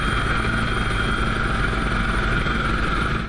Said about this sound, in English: a helicopter zoomed in,